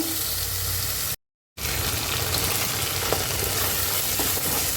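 Tomatoes sauté in a pan for a fishless fish-curry gravy, producing an even, close sizzle with soft stirring scrapes and a brief cut to silence early on.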